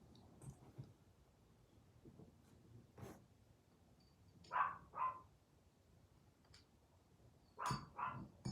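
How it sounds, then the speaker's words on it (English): A small dog barks in the background somewhere near a vise rebuild, in scattered bursts: two quick barks at mid-clip and two more near the end, with fainter yips earlier, all at moderate distance with no talk. "apologize for my annoying little dog in the background. She's barking because she wants to come in."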